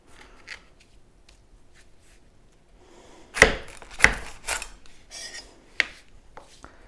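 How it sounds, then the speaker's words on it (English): A sharp knife cuts through the woody ends of a lemongrass stalk on a cutting board, giving a few crisp, close crunching chops and scraping cuts after a quiet start, with no talking. "we're going to turn it around and cut off the woody edges on the other side"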